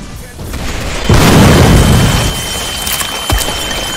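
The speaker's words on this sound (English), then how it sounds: "He just fired a rocket, we all just died." A rocket launches and explodes in a Roblox Vietnam War game, a loud close boom swelling into a rumbling blast, followed by scattered gunfire pops, with voices faintly underneath.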